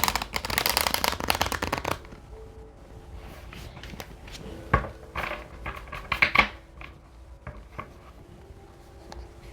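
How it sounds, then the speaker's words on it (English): A tarot card deck being shuffled up close: a dense, rapid riffle of card flutter for about two seconds, then softer scattered card slaps, taps and handling noises. "Shuffle, one more shuffle."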